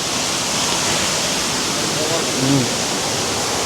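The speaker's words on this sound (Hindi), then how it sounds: "तो दिस इज़ द वाटरफॉल।" A loud, steady waterfall roar fills the scene at the Kushma bungy jump site in Nepal, continuous broadband rushing water with a brief faint voice underneath near the end.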